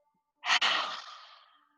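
A slow, deep exhale during a hatha yoga breathing exercise, one close breathy sigh that starts sharply, briefly catches, then trails off gradually into quiet.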